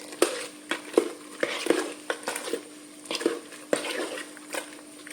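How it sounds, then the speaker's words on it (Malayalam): A dry ladle stirs fermenting homemade pineapple wine on its second day, giving a series of soft scraping strokes and light knocks against the container, moderately close, with no speech. "അതേ തവിയുണ്ട്. നമുക്ക് ഒന്ന് ഇളക്കാം."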